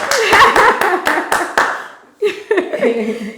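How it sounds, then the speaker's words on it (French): A few sharp claps ring out for the directors at an interview event, a short burst of separate hand strikes fading within two seconds before a voice starts talking. "Applaudissez les réalisateurs"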